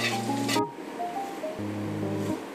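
Potato strands for a Navratri fasting snack (aloo lachha) frying in hot oil, giving a steady close broadband sizzle with a tonal hum over it at the start and near the end.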